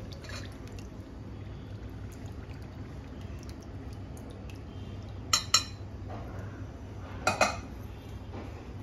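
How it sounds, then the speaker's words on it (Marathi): Mango pieces for a Maharashtrian-style mango pickle are mixed into cooled oil and pickle masala, with a steady low stir and two brief spoon-against-vessel clinks, no talking. "आणि या तेलात ह्या फोडी अशा छान मिक्स करायचं."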